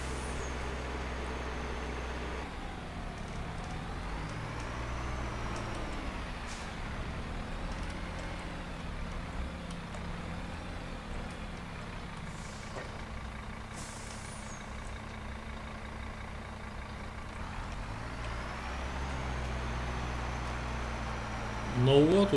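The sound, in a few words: large rented tractor driving to the field, Farming Simulator 22 video game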